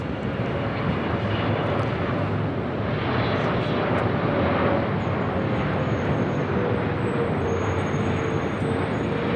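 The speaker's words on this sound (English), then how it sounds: "This arrival is British Airways Flight 281 coming in from London Heathrow on the 777-300ER" A British Airways Boeing 777-300ER arriving at LAX from London Heathrow gives a steady, loud jet roar that swells slightly midway and holds throughout, with faint distant traffic underneath.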